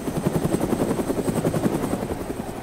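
Helicopter flying low overhead in the video game DayZ on the Chernarus map, its rotor giving a steady, loud, fast chopping pulse throughout with no talk.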